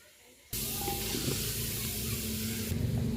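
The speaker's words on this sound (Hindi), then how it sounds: "पहले इसको थोड़ा सा भूनेंगे और साथ में अदरक लहसुन का पेस्ट शामिल कर देंगे" Beef with ginger garlic paste hits a hot pan and starts a loud, steady sizzle that stays dense and close for several seconds, with no talking.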